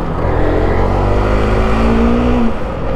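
A motorbike rides along a mountain road with a steady engine drone and heavy wind rush close to the mic, the engine pitch rising and then dropping slightly near the end.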